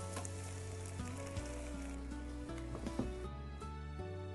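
Sweet potato cakes fry in oil on a preheated electric griddle under a closed lid, a steady soft sizzle running underneath louder background music.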